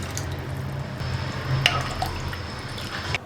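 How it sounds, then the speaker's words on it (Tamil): Water being poured into a pot, a steady close trickle and splash lasting a few seconds before stopping. "ரசத்துக்கு தேவையான அளவுக்கு தண்ணி ஊற்றிக்கலாம்"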